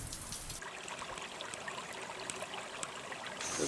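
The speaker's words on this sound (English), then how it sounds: "everything is wet as the meltwater makes its way down to the ocean" Glacial meltwater flows down toward the ocean in a soft, steady trickle and rush, faint and continuous, with small splashy bursts and a slightly louder swell at the end.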